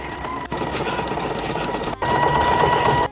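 A sewing machine stitching embroidery runs in steady, fast mechanical whirring bursts, close and continuous, with two brief pauses between runs.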